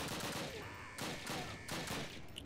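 Sustained burst of gunfire from a Call of Duty match, loud and close, coming in dense rapid volleys with short gaps between them and no voices over it.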